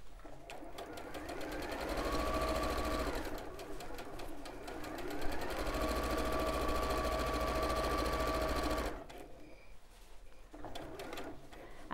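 A sewing machine runs steadily, stitching a quarter-inch seam on a dress. The motor's even whir stops briefly once, then resumes, and cuts out near the end.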